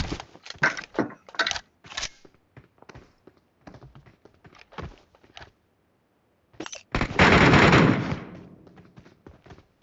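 Gunfire in the PUBG Mobile Metro Royale video game: a string of sharp, separate shots for several seconds, a short lull, then a dense, sustained burst of rapid fire lasting about a second and a half.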